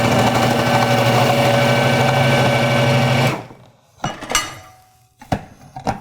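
A KitchenAid Pro Line KFP1642 food processor dicing onion whirs with a loud, steady motor drone for about three seconds, then stops, followed by several sharp plastic clunks and knocks.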